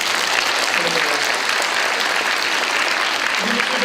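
A church congregation at Tacoma Central Presbyterian Church breaks into dense, sustained applause, a steady wash of many hands clapping at once with no pauses.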